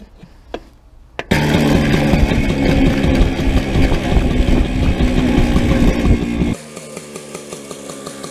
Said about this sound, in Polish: Rafał Pasierbek, proszę Państwa, przed nami mistrz świata w tancie motocyklowym.